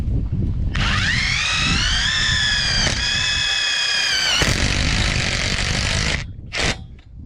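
A power drill drives self-tapping screws into metal hoop house bows, whining in one loud, sustained run that rises briefly in pitch partway through, then cuts off and gives a short final burst.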